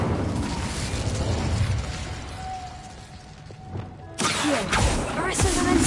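Incendio fire spell cast in the video game Hogwarts Legacy, a dense crackling, bursting roar of flame that runs continuously and then surges with a sharper blast near the end, loud against game background noise.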